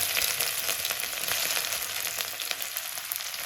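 Ginger and garlic sizzle in oil left over from frying chicken, the hot fat crackling close and loud in a steady, dense fizz with no voices over it.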